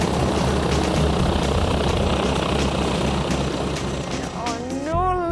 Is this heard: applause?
no